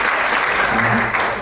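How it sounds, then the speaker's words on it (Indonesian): Brief, loud applause from an audience at a public event, continuous dense clapping throughout with a faint voice underneath. "tepuk tangan untuk Bapak Ibu sekalian."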